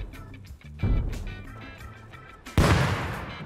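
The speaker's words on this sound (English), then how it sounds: "Someone's trying to take Bradley with grenades" Two heavy grenade blasts in the game Rust, the first about a second in and a louder one later, each a sharp boom with a rumbling decay.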